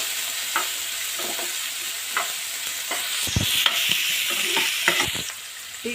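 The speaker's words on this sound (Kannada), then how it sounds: "ಇದನ್ನು ಫ್ರೈ ಮಾಡ್ಕೊಳ್ಳೋಣ." Vegetables sizzle and fry in a hot pan for a veg sandwich, with a steady crackling hiss and occasional stirring scrapes and knocks of a utensil, close by.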